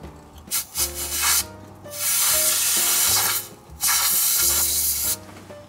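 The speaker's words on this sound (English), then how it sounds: "I'm gonna attempt to blow some of it out with compressed air." A compressed-air nozzle blasts debris out of a Dodge Ram V10 pickup in loud, steady hissing bursts, three long sprays separated by brief pauses, close to the listener.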